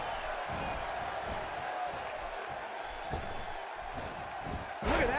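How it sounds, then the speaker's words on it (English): Arena crowd in the WWE 2K16 wrestling game, a roaring wash of cheering with thumping impacts from the ring, building to a sharper swell near the end while a commentator's voice runs faintly underneath. "This crowd's going nuts, King."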